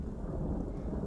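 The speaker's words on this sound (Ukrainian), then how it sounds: "Коли йде дощ, ви чуєте гуркіт. Це грім." A low, rolling rumble of thunder with a soft wash of rain underneath, brief and fairly distant.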